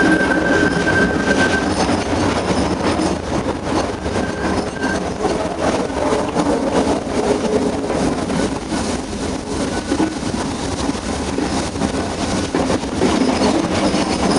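Ooty rack and pinion railway train running on the rack section: a loud, steady mechanical rumble and clatter of wheels and cars, with a brief faint squeal early on, continuous and close, no voices.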